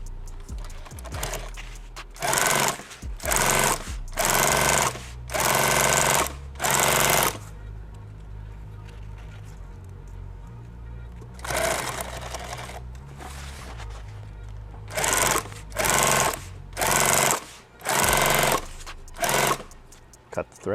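An industrial sewing machine hems the sides of a VIP party bag in repeated loud, rapid bursts of stitching, each lasting about a second, separated by short pauses and handling noise.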